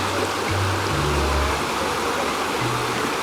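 Water rushes at the Dudhsagar waterfall in a forest in Goa, a constant dense roar that stays loud and even throughout, with low wind-like rumbles underneath.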